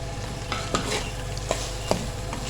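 Masala sizzles in ghee in a pan for chicken kaleji and pota, with ginger and green chili stirred in. A constant close sizzle carries a few distinct spoon scrapes, and no one speaks.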